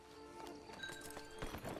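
Horse hooves clip-clop in Red Dead Redemption 2, a steady run of hoof strikes close by with a soft whinny and faint background ambience.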